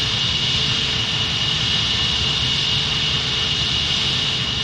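A Concorde supersonic airliner in Microsoft Flight Simulator taxis to its parking spot, its jet engines giving a steady, loud whine and hiss with a low rumble underneath, unbroken from start to finish with no talk.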